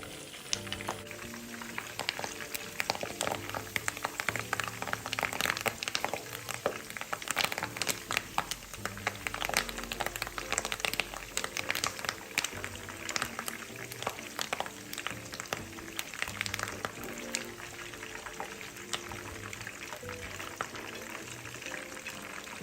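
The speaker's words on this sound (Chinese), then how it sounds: "再将咖喱叶加入油炸" Curry leaves fry over high heat in hot oil with meat pieces, a dense, continuous crackling sizzle with sharp pops and spatters throughout, steady and close.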